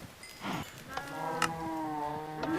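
Minecraft cows in an automatic cow breeder, giving a few short, close moos with harmonic lows, one after another over about two seconds, fairly quiet.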